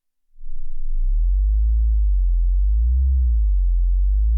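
A Behringer BM-11M analog filter pedal's resonance: a deep, smooth tone that swells in, then hums low and steady with a slow wavering wobble, loud and alone with no voices.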